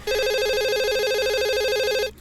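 Phone ringing in the Discourse video game, a loud steady electronic warbling ring that holds for about two seconds alone and then cuts off sharply.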